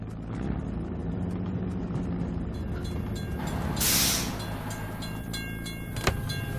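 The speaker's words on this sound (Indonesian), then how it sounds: "Gerbang penyeberangan ditutup. Kita harus menunggu hingga kereta lewat." A video game train rumbles past a level crossing with a steady rolling clatter and a brief hissing burst midway, ending with a sharp clack; no voices are heard.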